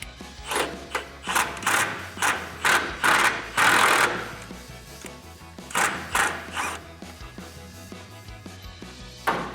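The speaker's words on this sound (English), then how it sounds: "We're gonna run that in with a 16mm socket and an impact." An impact wrench with a 16mm socket runs a bolt in while installing a Belltech anti-sway bar bushing on a RAM 1500 truck, giving repeated short hammering bursts in a steady rhythm, close and fairly loud.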